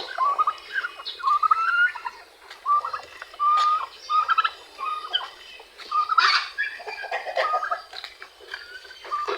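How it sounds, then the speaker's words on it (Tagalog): Turkeys gobble repeatedly in short, rattling bursts, several calls overlapping at close range with no talking. "Dito sa ating mga pabo."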